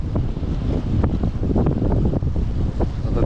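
Strong wind buffets the microphone while fishing in heavy rain during an Australian storm, a loud, constant roar with water and surf texture underneath and no speech.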